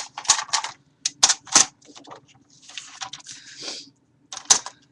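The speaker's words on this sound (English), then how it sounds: "I'm going to go ahead and just trim off that bottom if you don't mind" A paper background is trimmed along its bottom edge: sharp, close clicks and snaps, then a longer sliding cut before one last loud click.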